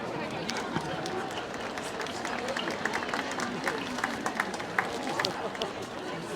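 A crowd at a hurling final presentation gives the referee a sustained round of applause, a dense even patter of clapping heard from amid the audience with chatter underneath.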